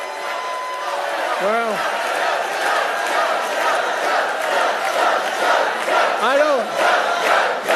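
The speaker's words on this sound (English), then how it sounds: "they cheer too long" A political rally crowd cheers loudly and continuously, a dense roar of voices with whoops rising over it, while a voice speaks briefly beneath the noise.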